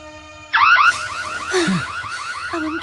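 A house alarm goes off abruptly and loudly after a short steady electronic tone, sounding a repeating warbling siren pattern of rapid rising chirps that continues to the end.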